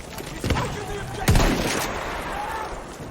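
Gunfire in the video game Battlefield: two or three sharp shots ring out, the loudest around the middle, over a steady bed of game ambience with a voice talking nearby.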